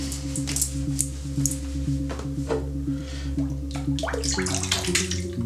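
Tap water runs steadily while a shaving brush is wetted beneath it, a close, splashy stream with irregular squishes and drips over a constant hum.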